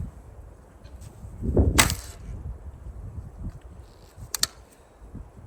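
A WhiteFeather Lapwing bow without string silencers released once with a thudding snap and a short ringing twang, then two faint sharp clicks later against a quiet outdoor background.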